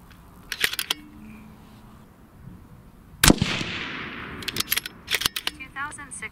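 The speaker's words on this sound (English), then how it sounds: "I'm gonna shoot for that right orange circle on the top." An Impact 737 custom rifle in 6.5 Creedmoor fires a single sharp, loud shot outdoors at a range, preceded and followed by faint clicks and handling noises, with brief talk in between.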